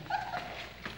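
A litter of seven newborn puppies, expected to grow medium to large, gives short, faint whimpers and yips close by, with no talk.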